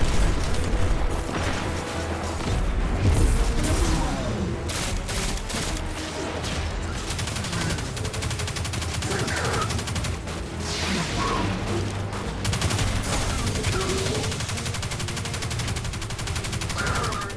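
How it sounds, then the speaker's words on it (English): Dense, loud submachine gun fire from the Destiny 2 beta strike, with rapid sustained bursts and booming impacts layered over busy game effects throughout. "This is why I like the SMG."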